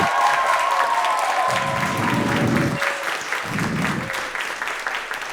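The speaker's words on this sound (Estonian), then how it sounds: "Aga teeme veel kord suure aplausi teile tantsutüdrukutele!" An audience at a dance studio's Christmas concert claps steadily throughout, a full room of applause with a faint tonal hum above it and low rumbling bursts underneath.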